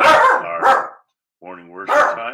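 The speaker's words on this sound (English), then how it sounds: "That's my dog in the background." A dog barks a few times indoors, sharp close yaps between and over a man's speech at a morning church worship gathering.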